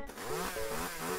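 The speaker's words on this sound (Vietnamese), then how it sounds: "Ui, các bạn nghe tiếng máy cưa không?" Within the modded Minecraft CrazyCraft game, a chainsaw's engine whines in a brief continuous burst, its pitch rising and wobbling slightly, heard alone without speech.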